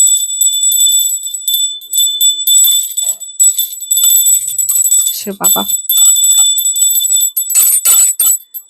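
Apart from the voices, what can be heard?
bell being rung at home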